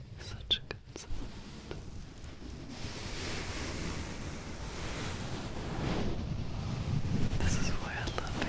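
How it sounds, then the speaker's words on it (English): Fluffy furry headwear brushed and rubbed against a microphone, giving a close, soft, whooshing rustle like wind or surf that builds and fades, with a few sharp taps at the start. "when you put it on the microphone, it makes such a good sound."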